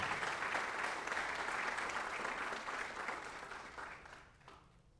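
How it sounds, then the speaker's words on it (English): A school audience at a spring athletics signing day applauds steadily for a softball player signing her letter of intent, a dense, even wash of clapping that fades out toward the end. "Ladies and gentlemen, let's give a round of applause for Natalie as she signs her letter of intent to RPI,"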